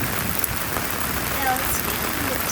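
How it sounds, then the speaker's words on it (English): Steady rain hisses and patters continuously close by in the Colorado mountains, with a voice talking faintly underneath. "It's about to rain even harder."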